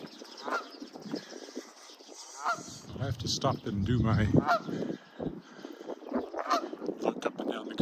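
A goose perched on a railing beside a full creek honks repeatedly in loud, raspy calls, with someone briefly speaking nearby during an outdoor walk.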